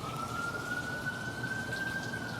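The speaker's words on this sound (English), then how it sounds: "here come the sirens." A distant siren wails in a slow, steady rising tone above a low rumble of background noise, faint and far off.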